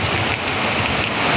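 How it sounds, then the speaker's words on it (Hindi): Heavy rain falls outside on a farm, a dense, loud, steady hiss of drops on surfaces with no voices. "बारिश भी एक तो तगड़ी वाली हो चुकी है शुरू"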